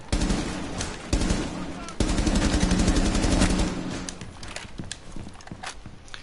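Rapid automatic gunfire from a first-person shooter game during aim-practice drills, loud and dense, with repeated bursts of close shots and a brief pause before the firing trails off.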